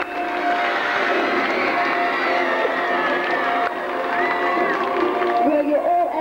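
Children's show audience cheering and whooping louder, a continuous crowd roar with shouts and clapping, swelling briefly near the end.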